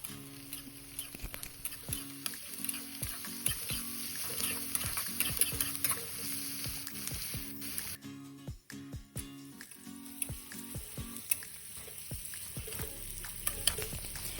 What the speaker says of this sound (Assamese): আদা নহৰু কুটি থোৱাখিনি দিম, আৰু তাৰপিছত ধুনীয়াকৈ ভাজিম।